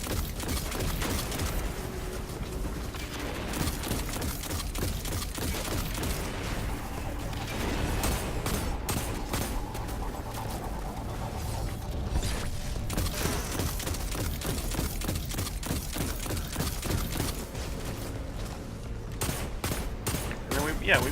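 Weapon fire in Destiny 2 during a Hunter Arcstrider solo Nightfall, rapid bursts of shots and clattering impacts layered with game effects, repeated throughout at moderate level, denser and sharper near the end.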